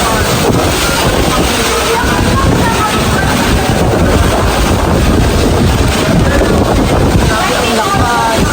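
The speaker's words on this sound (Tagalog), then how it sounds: "Lakas ng grabe sa hangin." Strong wind buffets the microphone at an outdoor 18th birthday celebration, a loud steady roar of broadband rumble and gusts that persists throughout, with faint voices beneath it.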